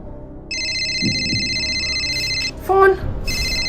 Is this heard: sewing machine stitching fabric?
no